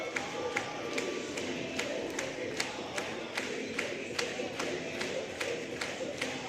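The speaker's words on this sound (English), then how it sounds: "See the whole crowd into it. A lot of clapping going on." A crowd at a varsity boys basketball game keeps up rhythmic, evenly spaced clapping over a constant murmur of cheering voices in a large gym, moderately distant and sustained throughout.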